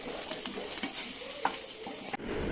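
Cabbage manchurian being mixed into sauce in a pan, a soft steady sizzle with light scraping and clinks from the stirring spoon and a small knock near the end.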